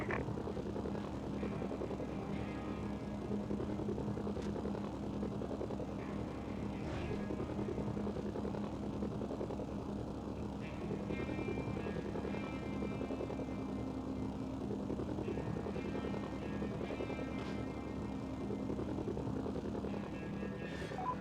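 Helicopter engine and rotor noise in the PS2 video game Mercenaries 2: a continuous, even, low droning hum that holds at the same level throughout, with faint game sounds scattered over it.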